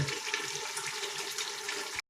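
Water pours steadily into a pot of country chicken biryani with rice, a continuous splashing gush lasting about two seconds before stopping abruptly.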